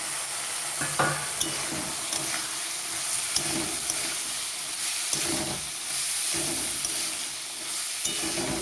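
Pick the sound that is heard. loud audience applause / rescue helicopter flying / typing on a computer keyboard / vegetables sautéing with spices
vegetables sautéing with spices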